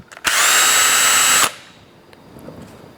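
A cordless power drill whirs at high speed for about a second, loud and close, then stops abruptly, leaving faint background noise.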